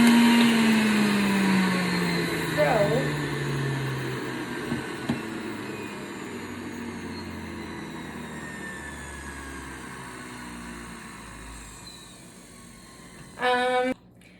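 A motorized juicer processes ginger, celery and carrot, a loud continuous whine with shifting pitch that fades slowly, broken near the end by a short rattling burst.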